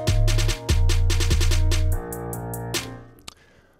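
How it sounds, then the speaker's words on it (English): A programmed trap snare roll with slightly lowered velocity plays in a beat remake, with rapid repeated hits over heavy bass that drop out halfway, leaving sparser hits that trail away. "I believe the very last pattern we have here is this snare roll."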